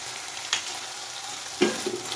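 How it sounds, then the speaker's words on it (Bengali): Spice paste with turmeric and Kashmiri chili frying in oil, a faint steady sizzle with two brief stirring scrapes, no voices. "এবারে মশলাটা ভালো করে কষে যাক"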